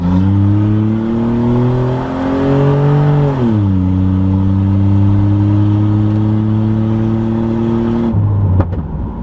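Modified minivan tuned to sound like a Grand Prix GTP, pulling hard in first gear: a loud, close engine note climbing steadily, dipping briefly at a shift point, then rising again before cutting off abruptly near the end.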